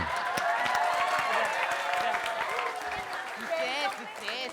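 Dense audience applause rolls steadily at a comedy stage show, loud and continuous with scattered cheers, while voices and laughter sound over the clapping and it thins slightly toward the end.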